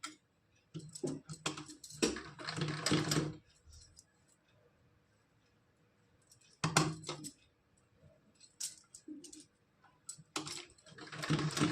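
A sewing machine stitches fabric for a small Kanha doll dress in several close, rapid bursts of mechanical clatter separated by quiet pauses.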